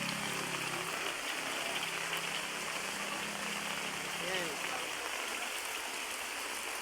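Heavy rain from a typhoon beats down beside a seaside pier, a dense, steady hiss that fills the whole scene, while someone speaks faintly beneath it.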